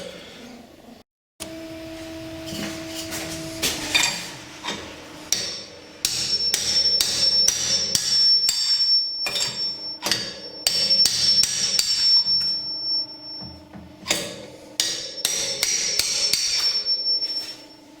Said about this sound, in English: catch the lip of the bearing behind and just punch it out